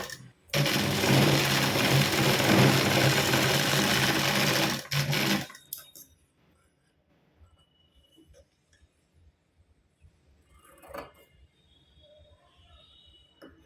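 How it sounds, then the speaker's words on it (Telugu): Sewing machine stitches a cloth hip belt in a steady, loud, continuous whir for about five seconds, then stops, leaving faint handling clicks and rustles of the fabric. "ఈ గ్యాప్ని కూడా ఇలా బార్కి స్టిచ్ చేసుకోవాలండి"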